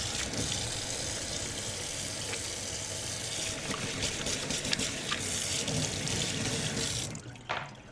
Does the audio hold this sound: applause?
no